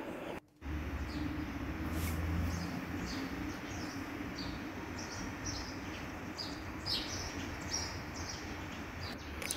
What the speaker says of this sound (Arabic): صوت العصافير برا كتير حلو